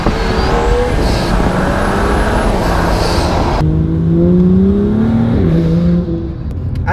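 A stage 2 BMW M2 with an upgraded exhaust, tuned to 440 bhp with methanol injection, revs and pulls hard with a deep, bassy, loud engine note that climbs through the gears, alone and close.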